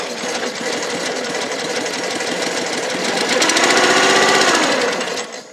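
The small engine of a Tractor Supply wood splitter runs rough on choke, a loud, close, sputtering rattle that swells near the end and then begins to die away, with no talk.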